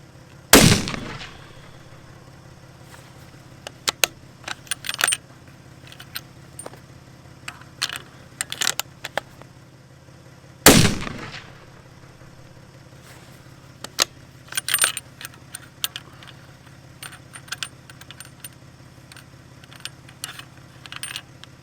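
Two loud, sharp rifle reports from a custom 300WSM during load development, firing Reloader 26 handloads about ten seconds apart, each with a ringing decay, amid scattered clicks and clinks of handling and brass.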